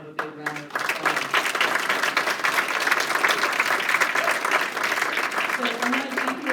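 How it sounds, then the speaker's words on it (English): Audience applause at a Title IX 50th anniversary celebration for university athletics, a room full of clapping swelling after a short spoken line and sustaining steadily, fading as a voice resumes at the end. "I hope we can have a big round of applause"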